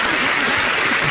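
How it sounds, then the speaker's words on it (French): An audience claps for a woman being honoured at a Congolese music event, a short burst of loud, dense, even applause. "Applaudissez cette femme."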